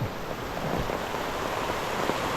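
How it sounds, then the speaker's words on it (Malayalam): Steady, even rain hiss by the Pamba River, a dense wash of falling drops at moderate level, with no voices. "ഇപ്പോൾ മഴയാടാ"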